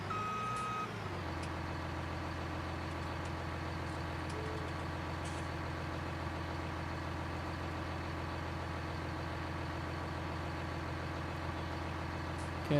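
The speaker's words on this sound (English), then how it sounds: "there's the truck articulating" A forestry harvester truck in Farming Simulator 19 runs steadily throughout, a constant engine drone with a repeating reversing beep as the vehicle articulates, close and even in level.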